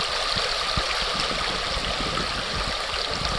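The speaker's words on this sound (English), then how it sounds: "So this is the Shoshana River here" The Shoshone River on the Stampede Trail flowing steadily nearby, a loud, continuous rushing wash of water with no breaks and no voices.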